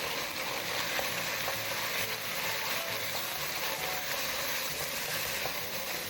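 Chili powder sizzles in a hot frying pan while it is stirred into kimchi fried rice, a steady close hiss with light scraping all the way through.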